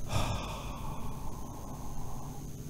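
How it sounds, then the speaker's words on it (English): Breath is pushed out in a double exhalation during a relaxation exercise, a forceful airy gasp followed by a long, steady breathy release, close and alone. "Double breathing exhalation and relax."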